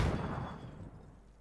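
Explosive gunfire from a competitive first-person shooter match between grenade-throwing players: one sharp, loud blast at the onset, then a rumbling decay with heavy low-end tail.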